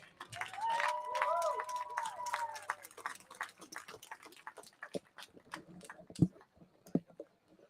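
At a high school football game in Ripley, the crowd applauds the senior players. A wavering whistle-like tone sounds early, then the clapping thins into sparse, uneven claps that fade toward the end.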